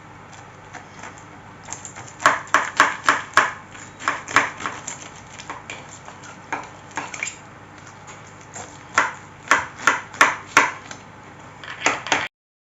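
Knife cutting through a baked homemade lasagne in a dish, a series of sharp scraping and clinking strokes in quick clusters against the pan, close and fairly loud.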